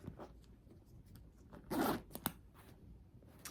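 A zipper on the back pocket of a used designer purse is pulled in one quick, quiet stroke near the mic, followed by a short click and faint handling.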